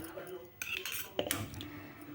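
A metal spoon clinks and scrapes against a vessel while lemon rice is mixed with salt: a couple of sharp, close taps, then a short burst of scraping, fairly quiet with no speech.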